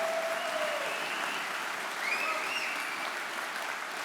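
An audience at a Philadelphia faith and freedom summit event applauds warmly for AM 990 and WFIL radio stations, a dense, steady wash of clapping from a large crowd in a hall, sustained throughout.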